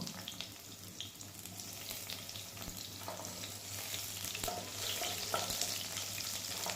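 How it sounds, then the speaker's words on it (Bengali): Chopped onion frying in hot oil in a pan, a steady close sizzle with light stirring, continuous and unaccompanied by talk. "তেলটা গরম হতে দিব, তারপর পেঁয়াজ কুচি ঢেলে দিব।"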